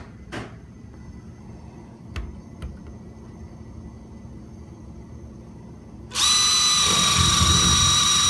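A power drill fitted with a hole bit bores into a wall for a flat-screen TV mount, starting abruptly as a loud, steady whine after a few light knocks and handling clicks, and holding on to the end.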